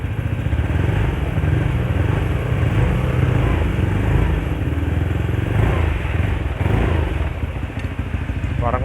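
Honda Vario 125 scooter with a WRX V2 silent racing exhaust idling up close, a steady throbbing engine drone with a low rumble throughout and a slight rise midway.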